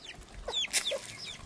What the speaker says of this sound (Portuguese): São outra classe de galinha, né?